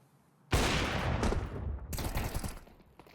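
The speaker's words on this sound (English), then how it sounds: "And oh my goodness, Holy. With that missed shot" Gunfire in a competitive online shooter match during a league esports game: a sudden loud burst of rapid shots, then a brief pause and a second volley, close and sharp with a long decaying tail.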